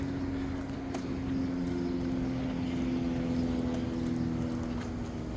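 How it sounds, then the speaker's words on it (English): A small single-engine propeller plane drones steadily high overhead above suburban Eagles Landing near Atlanta, a faint, distant hum holding a constant pitch throughout. "Have a single engine plane flying way up there too,"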